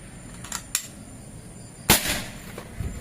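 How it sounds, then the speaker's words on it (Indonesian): Sharp report of a PCP air rifle, a compact folding model at 3500 psi, fired once fairly close with a crisp crack and brief tail, preceded by a couple of small clicks. "tembakan pertama menggunakan track 3"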